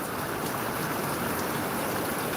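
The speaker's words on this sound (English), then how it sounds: "the rain started dropping" Rain pours outside an open hotel-room window in Gboko, a dense, even hiss of falling water that holds steady and close for the whole stretch.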